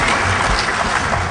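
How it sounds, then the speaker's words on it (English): Brief, loud burst of audience clapping for Mudge at a DEFCON hacker conference talk, a dense patter of many hands with no voices. "Everybody clap it up for Mudge, thank you."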